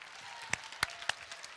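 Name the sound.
applause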